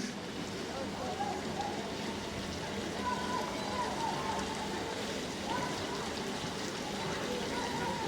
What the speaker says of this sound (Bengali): এই দশ পনেরো সেকেন্ড ভেজে নিলাম